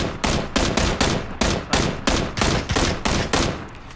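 Rapid automatic gunfire in PlayerUnknown's Battlegrounds, a run of about ten loud, evenly spaced shots over four seconds with no talk.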